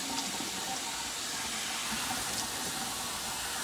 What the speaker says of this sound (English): We're at the point where I'm washing the conditioner off.